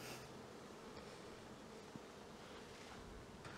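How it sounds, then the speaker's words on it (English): Honeybees buzz steadily in three-chamber nuc hives fitted with an automatic feeder, a dense, even drone held close and unbroken throughout with a couple of faint knocks. "And the bees go into here, so these are our nucs."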